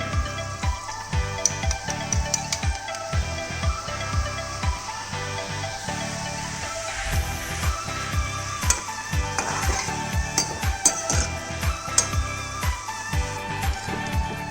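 Bundi batter dropped through a perforated spoon into hot oil, with soft repeated taps of the spoon and a faint sizzle beneath, steady rhythmic knocks throughout.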